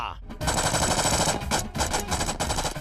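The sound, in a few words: gunfire from guns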